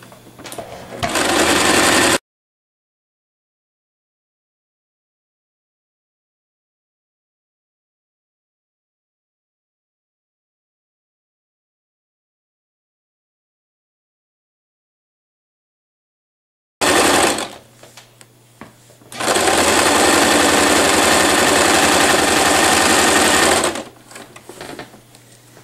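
Sewing machine running in two loud, steady bursts as it stitches along pinned fabric for a jean skirt, with a long silent gap between them and a brief pause before the second run.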